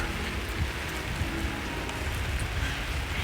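Rain falls steadily around a city viewpoint, a constant broad patter and hiss without pause, close and even in level.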